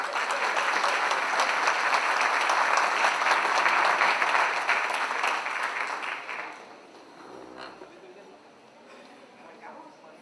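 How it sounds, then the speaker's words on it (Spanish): Audience applause at a political education congress in Buenos Aires for two speakers: dense, steady clapping for about six seconds that then thins and fades to scattered claps and room noise. "Fuerte el aplauso para las dos."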